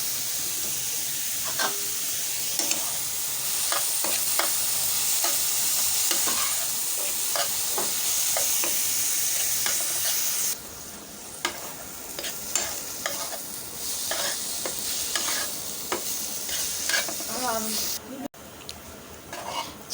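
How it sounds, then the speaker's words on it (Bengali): Snake gourd frying in a pan of oil with turmeric and salt, a steady close sizzle broken by repeated stirring scrapes and clinks of the utensil against the pan, the hiss dropping somewhat partway through. "চিচিঙ্গাটা একেবারে ভাজা হয়ে গেছে"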